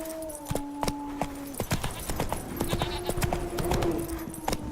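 Horse galloping in The Witcher 3 game, rapid rhythmic hoof clip-clops close and clear, backed by a low rumble and a faint musical drone.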